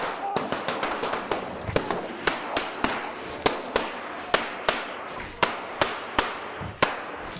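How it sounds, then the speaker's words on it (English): Rapid gunshots from .38 rounds ring out during a police encounter, a string of sharp cracks fired in quick irregular succession for several seconds, with voices speaking in the background. "Shots fired."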